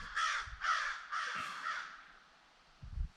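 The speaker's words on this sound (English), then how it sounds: "What horrible sounding birds." Crows caw three or four times in harsh, rasping calls, fairly close and loud, with brief gaps and a low thump at the end.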